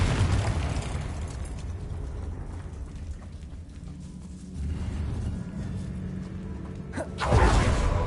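A Confringo spell explosion in the video game Hogwarts Legacy: a low rumbling blast that swells midway, then a sharp, loud burst near the end, with no voices.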